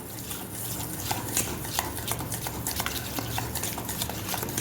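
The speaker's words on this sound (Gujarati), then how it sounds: "હવે આપણે આને મિક્સ કરી લઈશું." Powdered sugar being stirred into yogurt for shrikhand, a spoon scraping and clinking against the bowl in a steady, close rhythm with small taps throughout.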